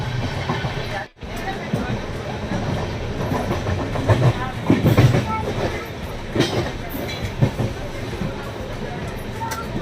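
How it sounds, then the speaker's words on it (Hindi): Inside a moving, nearly empty passenger train bound for Saharanpur in India, with a steady rumble and rhythmic wheel clatter throughout, one brief dropout, and faint voices in the background. "हम लोग बैठे हैं सहारनपुर जाने वाली ट्रेन के अंदर"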